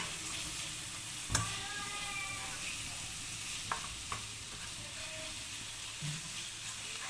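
Masala with red chili powder and salt frying and being stirred in hot oil for a crunchy bhindi masala, a steady quiet sizzle with occasional sharp scrapes and clinks of the spoon against the pan.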